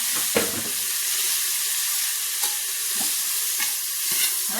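Whole spices roast in a pan in a home kitchen for goat head curry, with a loud steady hiss and sizzle broken by several stirring scrapes and knocks at irregular intervals.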